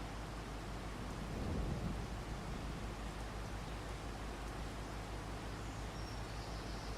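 Steady rain falls in a farming video game, a dense even hiss with a low rumble swelling briefly early on, then continuing unchanged.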